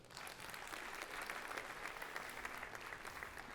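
Sustained studio audience applause on a Armenian talk show, a dense steady wash of clapping hands lasting the whole stretch, fairly even in loudness with no voices standing out.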